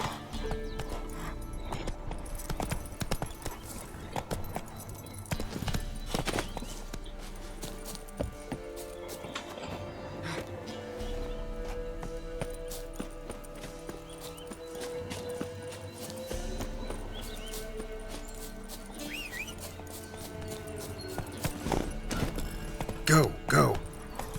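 Galloping hooves of Roach, the horse in The Witcher 3 video game, come in bursts with an occasional whinny under game music and a person talking.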